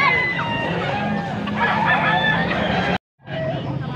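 A young stag gamecock crows at a rooster market in Angeles, Pampanga, loud and close, with other fowl and crowd babble behind, cut by a sudden brief dropout near the end.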